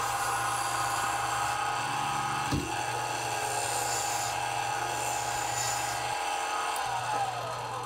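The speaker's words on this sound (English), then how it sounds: "this is my uh, three quarter inch bowl gouge with the 40 degree bevel." A three-quarter-inch bowl gouge with a 40-degree bevel cuts into a log turning on a wood lathe for a lamp shade, producing a loud, continuous rasping whir with no pauses.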